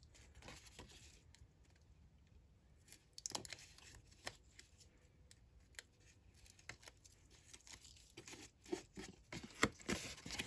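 Paper is folded by hand while making a mini Christmas gift box, giving soft crinkles and sharp creasing snaps scattered irregularly over quiet handling noise.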